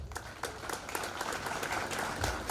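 A crowd at a secondary school graduation ceremony gives sustained applause, a dense wash of many hands clapping at once, steady and fairly loud.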